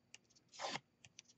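A bone folder rubs across paper to round it, giving a short scraping swipe near the middle flanked by a few faint dry taps, close and quiet.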